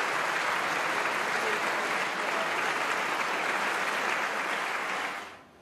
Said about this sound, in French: On aurait pu laisser courir ces applaudissements parce qu'ils ont duré